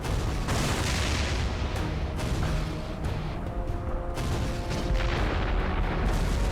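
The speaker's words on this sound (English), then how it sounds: "Just audio of explosions" Dense, continuous booming blasts in the video game Damnation rumble one after another, loud and overlapping, forming a constant barrage of explosions with no pauses.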